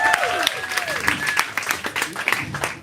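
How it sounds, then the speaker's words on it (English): An audience at a live poetry slam applauds and cheers for a poet, with dense clapping and a few whistles and shouts rising above the steady applause. "Make some noise for the poet one time."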